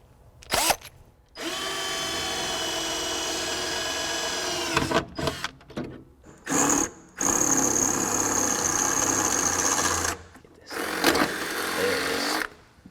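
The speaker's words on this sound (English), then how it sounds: "I'm going to drill a new hole that corresponds to our hardware that's on our cable" A power drill boring a new hole through the firewall of a 1967-era car for a throttle cable, running in several sustained bursts of whirring with brief stops between them, loud and close.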